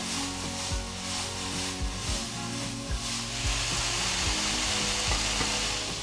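Garlic, ginger and vegetables sizzle steadily in a hot pan as they are stirred, with repeated scraping strokes of a utensil over a constant frying hiss and music playing underneath.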